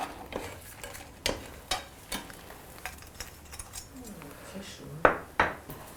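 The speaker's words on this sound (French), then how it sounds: "je peux couper le feu et je vais les égoutter" Boiled seafood purses being drained after the heat is cut: clanks and knocks of a pot and utensils recur every half second or so over a faint bubbling hiss, close by, with some talking in between.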